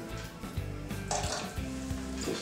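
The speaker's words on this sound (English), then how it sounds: "Let's pour a nice good amount of brandy in there." Brandy is poured from a bottle into a homemade holiday eggnog mixture. The liquid makes a steady, close splashing trickle for a couple of seconds, with no voices.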